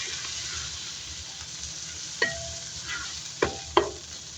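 Chicken hearts fry in a pan with a soft continuous sizzle, broken by a few louder scrapes and clacks from stirring, close and without voices.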